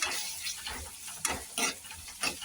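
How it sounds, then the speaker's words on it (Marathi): Chopped onions and ginger paste sizzling and frying in a pan, close and steady, with a few louder stirring scrapes breaking through the hiss. "कांदे आपण चांगले परतून घ्यायचे इथं आता मी अद्रकचं पेस्ट टाकते मी पण आपल्याला परतून घ्यायचे"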